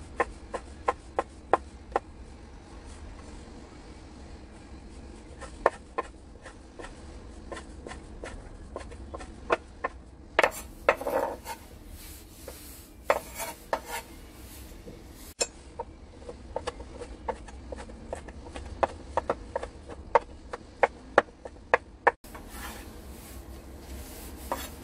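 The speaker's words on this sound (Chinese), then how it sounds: "咁可以洗乾淨切碎佢" Soaked mushrooms and dried shrimp being chopped on a board, a run of crisp knife taps in uneven bursts with short pauses and some rubbing scrapes between them, close and moderately loud.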